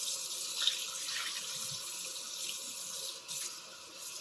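Cold tap water runs steadily from a faucet over boiled shrimp in a kitchen sink, a continuous close hiss of flowing water with no talk.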